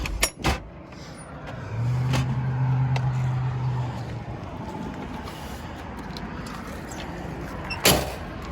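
Road traffic drones in the background near a duck pond in Idaho as a vehicle passes with a low engine rumble, framed by a couple of sharp knocks at the start and near the end.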